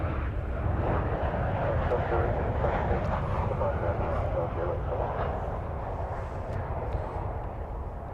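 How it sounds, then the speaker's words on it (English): An American Airlines Boeing 737-800 arriving at DFW, its jet engines a loud continuous low rumble and roar holding steady throughout, with a voice talking over it. "Arriving from Salt Lake City, American Flight 1214, 737-800"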